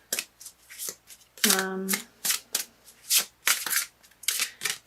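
Oracle cards shuffled during a tarot reading, a run of crisp riffling bursts in quick irregular succession, close and fairly loud, with one brief ringing tone partway through and a single short spoken word.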